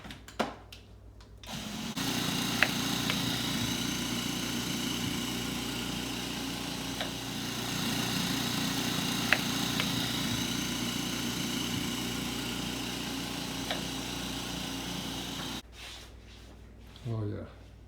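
Food processor or stand mixer steadily running as lemon zest is blended into sugar for lemon bars, a continuous motor whir held for about fifteen seconds between brief pauses at start and end.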